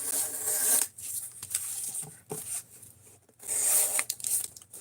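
A Craftsman knife slicing through cardboard, three rough rasping strokes separated by short pauses, close and fairly loud.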